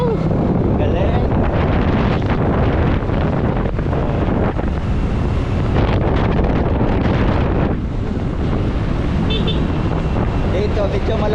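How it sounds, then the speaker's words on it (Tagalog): Cold wind buffets the microphone throughout a boat ride, a loud, continuous rumbling gust noise with water and engine wash underneath, while people talk over it. "Malamig na ang ihip ng hangin."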